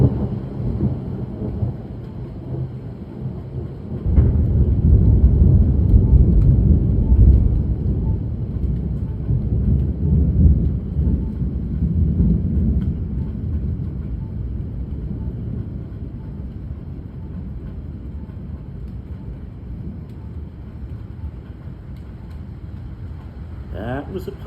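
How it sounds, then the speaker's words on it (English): Deep, rolling thunder from a positive lightning strike during a strong storm over the Little Rock, Arkansas area, a loud sustained rumble that swells after a few seconds and slowly fades under steady rain and wind noise. "that was a positive lightning strike"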